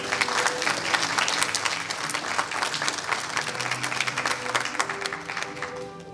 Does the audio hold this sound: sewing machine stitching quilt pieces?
no